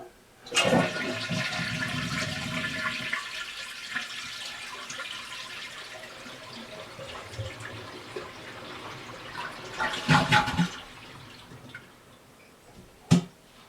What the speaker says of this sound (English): flush the toilet, and you want to sit here and hold the flush button down so that all the water drains